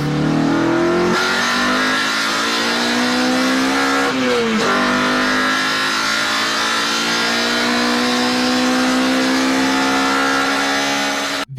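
A Honda Integra GSR engine revs hard and climbs steadily in pitch into VTEC, a loud, close, screaming wail with one brief dip in the middle before it keeps rising.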